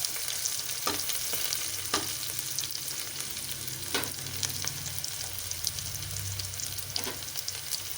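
Onions fry toward browning for tomato bath, a quiet steady sizzle broken by periodic clicks and scrapes of stirring, with no one talking.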